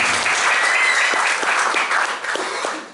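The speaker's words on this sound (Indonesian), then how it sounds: "Tepuk tangan buat Tuhan Yesus Kristus." A church congregation applauds during a sermon, steady loud clapping filling the room almost alone, with only faint voices beneath.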